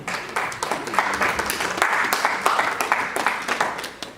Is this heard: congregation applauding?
yes